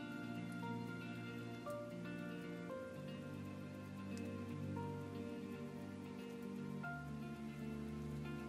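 Steady rain falling on a surface at a Thai vegetable plot where eggplant seedlings are being raised, an even patter of drops with a faint continuous hum underneath, no talking.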